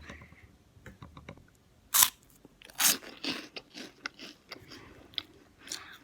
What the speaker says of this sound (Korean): 먼저 바나나 킥부터 먹어볼게요